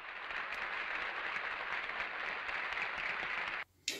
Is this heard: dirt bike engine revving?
no